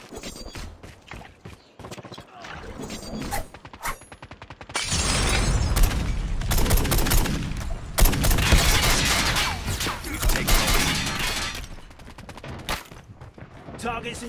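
A gun fires in a Call of Duty match as rapid bursts of shots and loud sustained volleys, with a player talking over the action.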